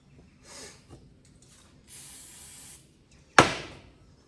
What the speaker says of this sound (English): a little bit of brake clean just to get the grinding compound off.